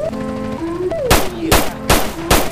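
Four loud, sharp gunshots ring out in GTA San Andreas during a police patrol shootout, evenly spaced about half a second apart, following a brief stretch of in-game tones and background noise.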